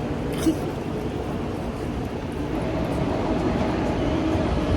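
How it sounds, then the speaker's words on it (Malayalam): Steady low rumble of a train in motion in South Korea, a continuous rolling drone with a faint brief knock near the start. "നമ്മൾ ട്രെയിനിൽ പോവുകയാണ്,"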